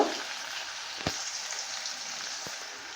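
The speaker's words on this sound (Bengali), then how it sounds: "পেঁয়াজটাকে আমি এইভাবে হালকা করে ভাজবো যাতে লাল লাল করে" Chopped onions fry lightly in a pan with a steady, soft sizzle. A couple of faint clicks, likely a spatula stirring, sound over the hiss, and no one speaks.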